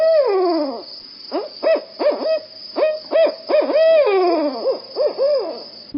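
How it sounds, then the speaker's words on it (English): A barred owl calls loudly and close in a rhythmic series of hoots, with rising and falling yowling phrases in a rapid, excited sequence that fills the whole stretch with no talking. "the barred owl is the who cooks for you"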